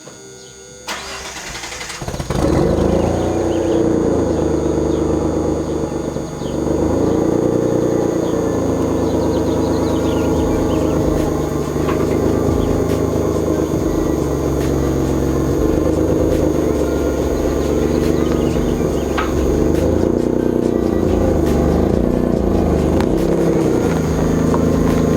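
A Mitsubishi 3000GT VR4 starts up in a garage, a quick cranking catch bursting into a loud, close engine that settles into a rumbling idle, then rises and dips gently as the car creeps out, with no talking.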